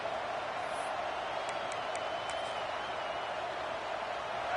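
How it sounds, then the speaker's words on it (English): A packed stadium crowd in the College Football 26 video game gives a steady, dense roar of cheering that stays at an even level throughout, with no distinct individual voices standing out. "This crowd ready to make its presence known"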